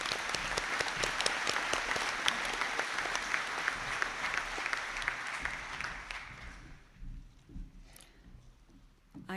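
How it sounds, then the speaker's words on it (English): Audience applause at a university graduation conferring ceremony, steady dense clapping for about six seconds before fading out into quiet room noise. "And I ask you to give them all a round of applause."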